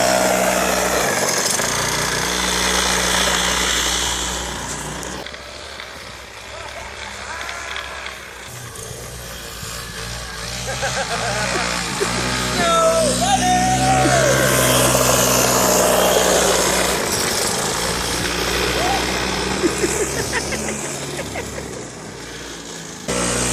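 An old 1979 Chrysler Sno-Runner snowmobile with a homemade track is ridden, its small engine droning and rising and falling in pitch as it revs, loud and continuous throughout with wind buffeting.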